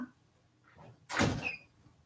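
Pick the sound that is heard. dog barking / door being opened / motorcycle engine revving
door being opened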